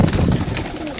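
Pigeon cooing at close range, a black pigeon among birds offered for sale, with soft repeated coos and faint background noise in a short burst.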